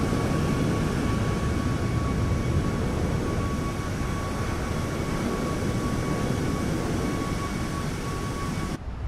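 Exterior engine roar of an iFly Boeing 737 MAX jet in Microsoft Flight Simulator 2024, a loud steady broadband rumble with a constant whine, continuous for about nine seconds before cutting off abruptly at the end.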